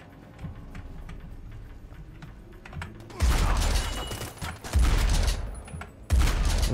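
Three loud, booming shotgun blasts from the PC game Spy Hunter: Nowhere to Run, spaced a second or so apart, following quieter clicks and game ambience.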